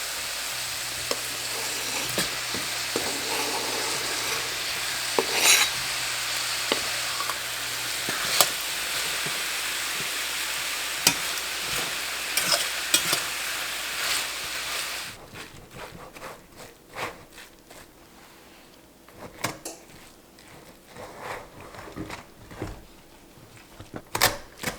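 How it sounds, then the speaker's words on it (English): Squash sautéing in a pan with basil salt, a steady hiss of frying with scattered stirring scrapes and clicks, turning sparser and quieter partway through. "I'm just going to add some of this basil salt and get this all sauteed up."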